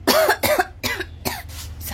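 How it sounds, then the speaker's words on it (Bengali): A person coughs indoors at home, giving a short burst of four or five close, harsh coughs in quick succession with brief gaps between them, then falling quiet. "কাশি হচ্ছে।"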